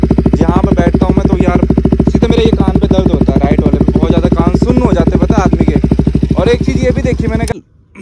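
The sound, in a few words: KTM Duke 200 motorcycle with modified exhaust revving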